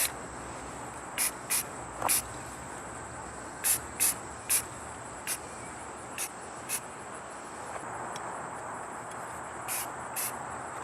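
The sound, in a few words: spray painting a rifle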